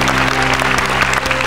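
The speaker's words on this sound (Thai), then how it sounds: "ขอเสียงปรบมือให้กับคุณแดงครับ" A studio audience on a Thai television talk show breaks into loud, continuous applause, dense and close, with faint music sustained underneath.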